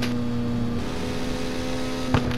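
Loud car exhaust drones steadily during highway driving, a constant low engine hum with a brief burst of extra noise near the end.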